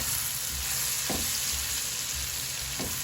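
Garlic cloves frying in a spoonful of oil in a pan as a base for pizza tomato sauce, a steady soft sizzle throughout with two brief utensil knocks, no voices.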